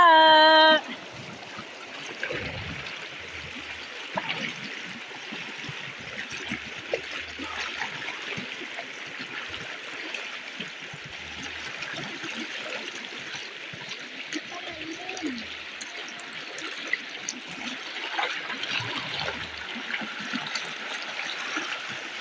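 Flowing stream water trickling and splashing steadily at low level, with faint voices nearby over the running current.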